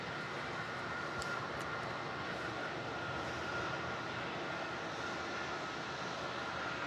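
An Airbus A330-300 jet at Melbourne Airport gives a steady, broad engine roar that holds constant through the whole stretch, heard from a distance with no talk.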